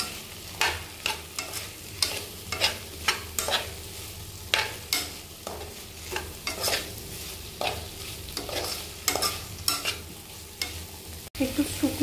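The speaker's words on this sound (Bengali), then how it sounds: "এবার এটাকে একটু সবগুলোকে একটু নেড়ে চেড়ে ভেজে নেব।" Vegetables with cashews and raisins are stirred and fried in a pan. A spatula scrapes in regular strokes over a continuous low sizzle, then a sharp knock comes near the end, with no talking.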